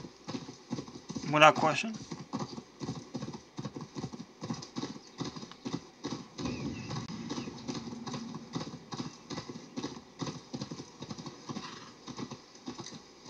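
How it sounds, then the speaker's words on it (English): Horse hooves clop steadily at a gallop in the Assassin's Creed Valhalla video game, slowing as they go, with a brief whinny near the start and someone talking over the rhythmic footfalls. "I love how my horse just slows down on its own."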